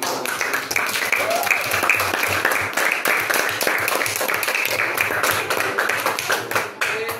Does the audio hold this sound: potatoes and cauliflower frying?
no